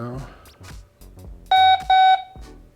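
Two clear electronic beeps from a Blurams Outdoor Lite 4 security camera as it connects to the network, each a sustained tone of about a quarter second, following speech.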